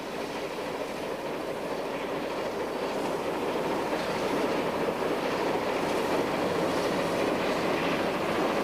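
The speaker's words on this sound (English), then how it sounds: "a steam train working its way upgrade over the railroad's impressive Devil's Gate Viaduct" Steady, continuous rumble of a steam train working upgrade over the Devil's Gate Viaduct on the Georgetown Loop Railroad in Colorado, with a broad chugging roar and faint rhythmic clatter, heard from a distance across a canyon with no talking.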